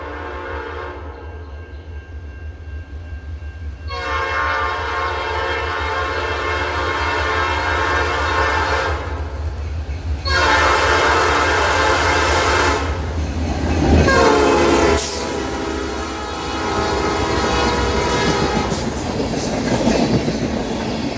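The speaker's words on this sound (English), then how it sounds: "A pair of Grand Trunk Western GP38-2s would be the power for L543" A freight train, L543, hauled by a pair of Grand Trunk Western GP38-2 diesel locomotives, rumbles loudly past at close range, with steady wheel and engine roar, two long blasts of the horn, and squealing wheels near the end.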